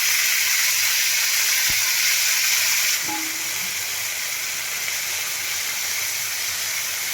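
Fenugreek greens tossed into hot oil with browned garlic and asafoetida give a loud, steady close sizzle that shifts and settles partway through, with a couple of sharp pan knocks and no talking.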